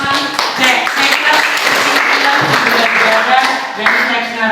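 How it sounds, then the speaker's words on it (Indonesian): A class of students in an Indonesian school claps hands together, a lively sustained patter of claps mixed with voices and chatter throughout. "Nah, oke, tepuk tangan."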